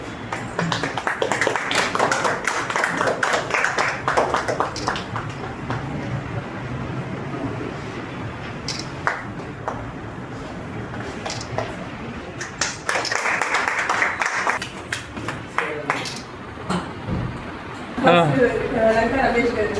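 Audience clapping at a Coastal Bank silver jubilee celebration, bursts of applause rising and fading in a hall, mixed with people speaking over a microphone.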